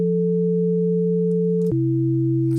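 Synthesizer chord of stacked major tenths played in Ableton Live, a bright sustained tone that holds steady, then shifts down to a new chord partway through, with no talking.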